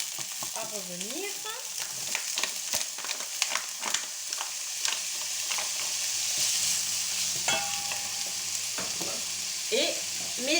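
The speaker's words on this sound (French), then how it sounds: "Je vais mettre d'abord mes lardons." Bacon lardons frying in a pan, a soft steady sizzle with scattered crackles and scraping stirring clicks, close but fairly quiet, with brief faint voice-like sounds and no clear talk.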